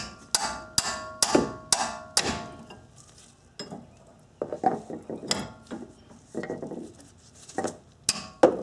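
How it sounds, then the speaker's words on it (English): A 4-pound sledgehammer strikes the end of a wrench to loosen a tie rod nut on a Nissan Maxima, giving sharp metallic clangs: about five quick blows, then scattered knocks and a couple more hits near the end. "strike the end of the wrench here with, this happens to be a 4-pound sledge"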